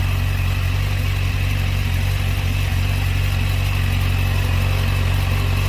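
A car's engine runs steadily as it is driven slowly around to the back, a loud, even low drone with no revving or pauses and no talking.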